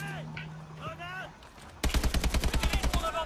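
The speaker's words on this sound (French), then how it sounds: "C'est juste que j'aime bien tirer des balles, je crois." A fast burst of automatic gunfire from the futuristic shooter Call of Duty: Advanced Warfare, a dozen or so evenly spaced rapid shots that break in loudly after quieter game sounds and tonal effects.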